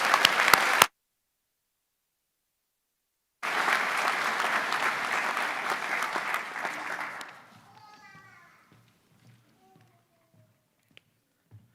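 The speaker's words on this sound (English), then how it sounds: "Let's give a final round of applause to all the seniors." Audience applause for graduating seniors at a school awards night: a short burst of clapping, a pause, then several seconds of sustained crowd clapping that fades into scattered claps and quiet.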